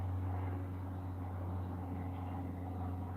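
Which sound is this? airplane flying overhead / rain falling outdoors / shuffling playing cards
airplane flying overhead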